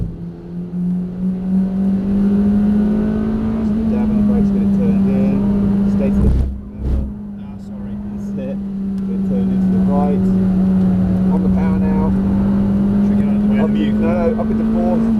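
A Honda Civic Type R (EP3) race car engine drones steadily close by, heard onboard, pitch climbing and dipping through gear changes, with a brief drop in the middle before the power comes back.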